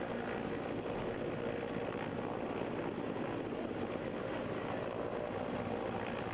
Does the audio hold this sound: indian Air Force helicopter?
yes